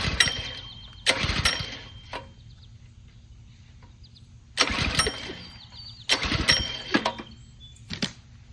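A gasoline power washer engine is pulled over repeatedly, giving several sharp, brief bursts of starter clatter separated by pauses over a low idling hum, with a bird faintly in the background.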